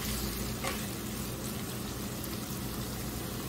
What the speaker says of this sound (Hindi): 1 मिनट हम और इसे फ्राई कर लेंगे।